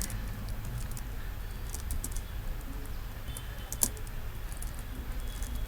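Soft, quick keystrokes of code being typed on a computer keyboard, a light irregular patter close by over faint background hiss, with one slightly sharper click.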